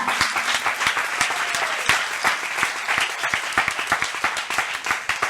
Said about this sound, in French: Je pense à Neville Diffouan, qu'on peut applaudir, le réalisateur de Si.